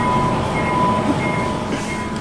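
A train rumbles past with a continuous low roar and faint rhythmic clatter, fairly loud and steady throughout, with no talking over it.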